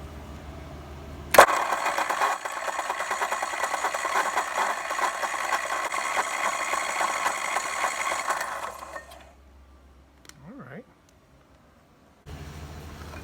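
The starter of a vintage Ford Capri found stored in a barn cranks the engine in one long, steady whirring spin of about seven seconds, close and loud, with no firing. It stops abruptly and quiet follows.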